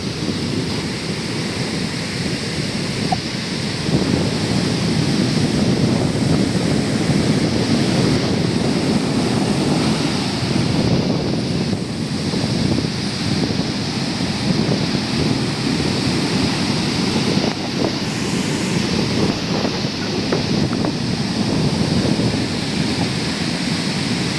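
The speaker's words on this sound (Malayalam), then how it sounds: "കടൽ നല്ല രീതിയിൽ കയറി കയറുന്നുണ്ട് തിരമലകൾ കാണാം ദൂരെ നിന്ന്" Steady roar of rough-sea surf surging onto a shore, continuous and fairly loud, with gusty wind rumbling through it; no voices.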